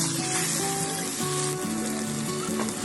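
Chicken stuffing sizzles loudly in a pan as it is stirred, a constant close frying hiss with a droning tonal hum beneath and no voices.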